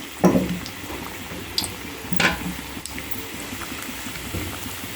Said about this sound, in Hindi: इसे हमें स्लो फ्लेम पे ही फ्राई कर लेना चाहिए इन समोसों को हमें